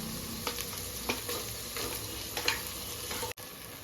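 Ground masala paste for a Telugu fish curry hisses and sizzles in hot oil, close and steady, broken by several sharp stirring scrapes of a spoon against the pan before a brief cutoff near the end.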